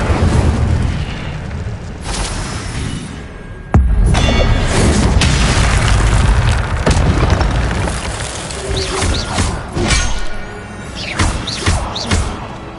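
Incendio fire spell blasts in the video game Hogwarts Legacy, loud booming bursts over a dense wash of game sound and music, one sharp hit standing out early.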